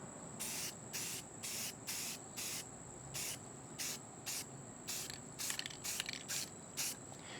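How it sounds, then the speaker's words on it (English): An aerosol can of automotive primer sprays in light coats: about a dozen short, even hissing bursts in a quick rhythm, close and clear with no talk. "I'm gonna be using some of this automotive primer."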